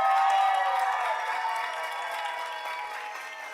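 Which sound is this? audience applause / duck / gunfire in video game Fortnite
audience applause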